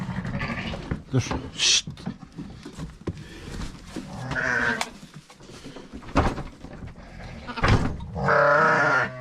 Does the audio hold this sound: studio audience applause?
no